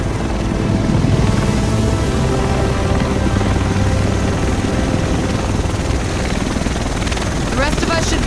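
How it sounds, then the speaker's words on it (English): A helicopter in the video game The Division arrives over Manhattan, its loud, close rotor thump and engine roar filling the scene and pulsing steadily throughout, with a voice briefly audible near the end. "The rest of us should be in this chopper."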